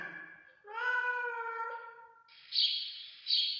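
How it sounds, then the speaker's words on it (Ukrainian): A songbird sings alone in a few bright, high chirping phrases, preceded by a short mewing note; close and clear, no talking. "А це співає пташка."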